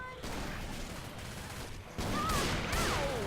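Explosions and gunfire from the zombie shooter Left 4 Dead 2 fill the mix, a steady loud barrage that swells louder partway through, with shrill whistling tones near the end.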